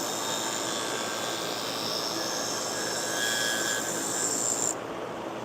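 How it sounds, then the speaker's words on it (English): Gingher sewing scissors lightly touched to a spinning sharpening wheel give a steady high whine and hiss with faint grinding tones, ending abruptly as the blade lifts off. "I'm just lightly touching the wheel."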